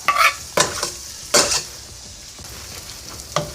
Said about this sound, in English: Let this butter melt up.